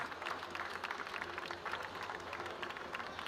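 Steady applause rises from a crowd packing a grandstand and lakeside banks at a rowing championship, a dense, continuous wash of clapping at moderate distance.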